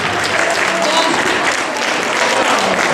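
Steady applause fills a Pongal festival hall, many people clapping together in an even, sustained roar from start to finish, with faint voices underneath.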